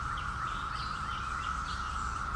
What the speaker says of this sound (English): the chirping of the birds